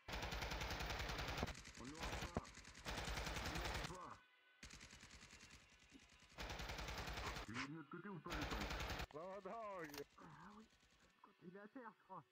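Gunfire in a S.T.A.L.K.E.R. roleplay session in VRChat rattles in dense automatic bursts separated by short gaps, while voices talk over and between the shots.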